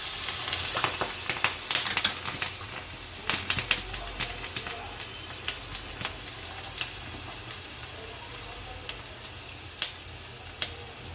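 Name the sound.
chopped green chillies sizzling in hot oil with spices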